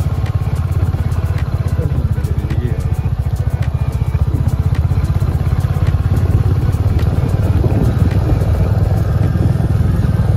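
A motorcycle climbing a hill track toward Gadra Sinni Hills in Belpahari, its engine close, loud and steadily pulsing throughout, with wind noise and no speech.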